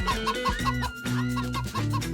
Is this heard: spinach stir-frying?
no